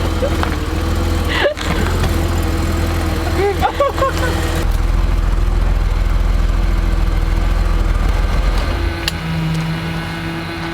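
A barn-find BMW E24 635CSI idles and reverses, its engine a steady loud low rumble throughout, with a shift in tone midway and brief voices and thumps over it.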